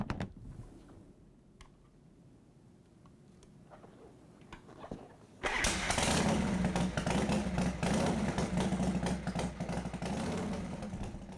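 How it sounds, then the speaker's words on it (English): A Harley-Davidson motorcycle sits in quiet surroundings with faint clicks, then its engine abruptly fires up and settles into a loud, rumbling idle that continues steadily. "until you hear the motorcycle start up or even turn over"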